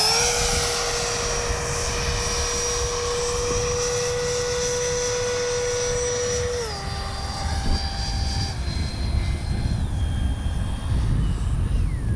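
An H-King Flycat V2 radio-controlled jet makes a low pass with its landing gear down. Its loud, steady turbine whine sweeps downward in pitch as it passes, then carries on more softly over a background of outdoor noise.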